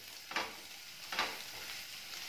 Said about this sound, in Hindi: गाजर और फ्रांस बीन को हम इसलिए पहले डाल रहे हैं क्योंकि इन्हें पकने में टाइम लगता है।